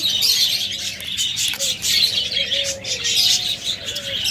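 Small caged parrots such as budgerigars, cockatiels and lovebirds chirp and tweet at a bird market, a steady dense chatter of many birds with a few clearer calls rising above it, moderately loud and without speech.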